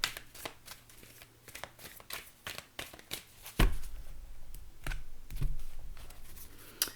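Tarot cards being shuffled close by in rapid riffling bursts, then softer sliding and tapping as the deck is handled.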